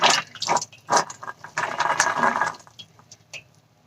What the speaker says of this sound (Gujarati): અને બધું પાણી આપણે નિતારી લઈશું